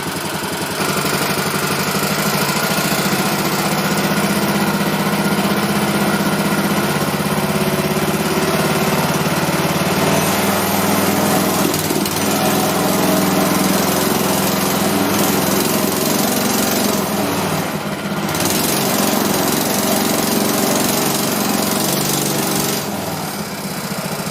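A loud, rough car engine runs steadily throughout, with no talking, its harsh mechanical rattle continuous and close.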